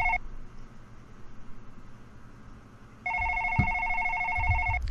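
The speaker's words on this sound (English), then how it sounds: "Is that my phone or his phone?" A phone rings in a late-night horror video game, a steady electronic ring that begins partway through over a low background hum.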